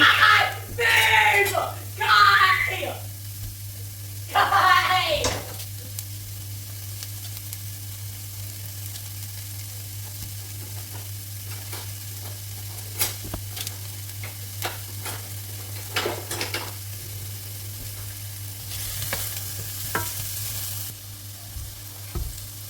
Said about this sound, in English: So just cooking the onion until they are nice and soft.